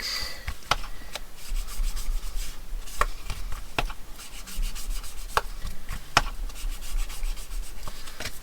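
Scorched timber ink being rubbed around the edges of paper for a flipping folio, a steady close scuffing with a series of sharp taps scattered through it.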